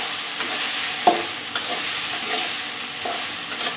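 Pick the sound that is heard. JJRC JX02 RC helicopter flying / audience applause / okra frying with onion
okra frying with onion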